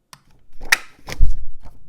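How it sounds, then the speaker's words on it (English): A 3/4 inch circle punch clunks through a paper sentiment, a couple of sharp close snaps and a dull thump in quick succession, loud against quiet surroundings. "I'll punch the sentiment out with our 3/4 inch circle punch."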